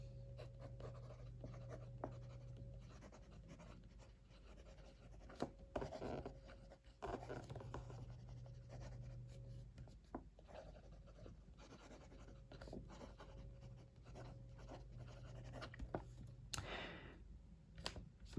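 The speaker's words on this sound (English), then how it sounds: "Let's do some writing." A Faber-Castell Ambition fountain pen scratches across paper in soft, continuous strokes with small pauses, quiet and close throughout, with no talking.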